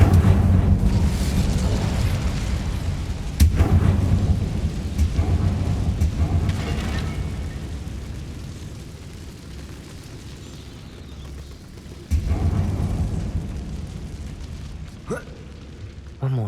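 Incendio fire spell cast in Hogwarts Legacy: a loud, rumbling burst of flame that slowly fades over several seconds, then a second fiery whoosh flares up near the end before tapering off.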